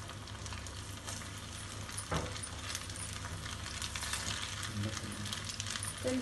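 Fish pakoda frying in hot oil, a steady loud crackling sizzle that holds throughout, with occasional clinks and pops from stirring.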